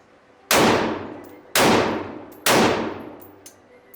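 Three loud, evenly spaced shots from a Maccabee Defense SLR rifle being test fired without its fore-end or muzzle device, with a misaligned gas block, each sharp crack ringing out and fading over about a second, no voices.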